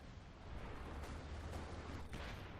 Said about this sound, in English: Your coordinated fire barrage, I believe.